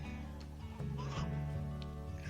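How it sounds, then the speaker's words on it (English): Chickens clucking and murmuring close by on a homestead farm in a steady, low chorus, with a few louder squawks breaking through. "crazy chickens."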